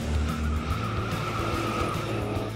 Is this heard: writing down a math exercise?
no